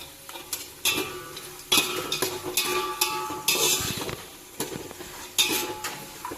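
Dry coconut tossing and roasting in a pan for an avalakki mandakki chivda snack, with a spoon scraping and clinking against the metal in irregular close strokes over a soft sizzle, no voices.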